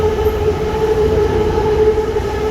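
Bangkok Skytrain passing by on its elevated line, a steady loud rumbling rush with a sustained tonal hum throughout, close by and with no talk.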